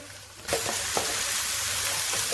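Marinated chicken drops into a pan of browned onions and instantly bursts into a loud, close sizzle that keeps frying steadily, with a few stirring scrapes near the start.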